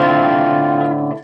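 A Squier Bullet Japan electric guitar rings out through distortion as one sustained, loud, harmonically rich chord that holds steady for about a second before cutting off, with no voices.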